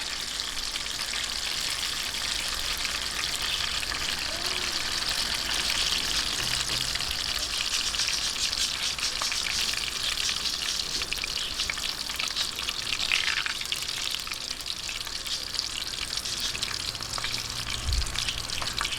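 Vietnamese egg rolls of ground meat and vegetables fry in hot oil until golden brown, with a dense, steady crackling sizzle that runs unbroken throughout and no talk.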